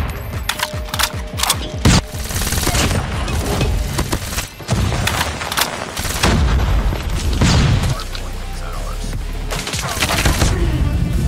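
Shotgun fire in Call of Duty Mobile, loud heavy blasts that come in repeated bursts and booming volleys throughout, with scattered game clatter between shots.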